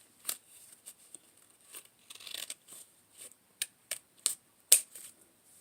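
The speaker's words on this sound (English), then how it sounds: "take your scissors, line it up, and just cut." Scissors snipping through card paper while making Valentine's Day cards, a series of short, crisp cuts in an irregular rhythm, close and fairly quiet, with one sharper snip near the end and no talking.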